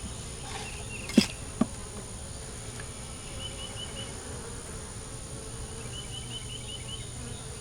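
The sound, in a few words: honeybees buzzing around a queen cell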